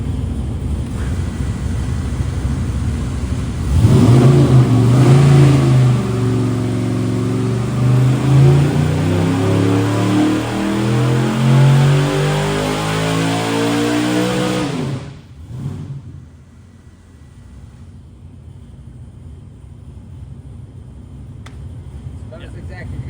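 A car runs on a dyno with a Vortec supercharger setup, revving hard for about ten seconds in a climbing, roaring sweep. It then cuts off to a quieter idle and background hum.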